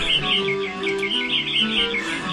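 Birds chirp continuously in quick, bright repeated tweets in the game Panique à Mickeyville, loud and close, over a soft game-music backdrop.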